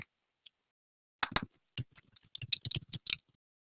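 Fingers typing on a computer keyboard, close and quiet, in an uneven burst of rapid clicks after a couple of isolated taps.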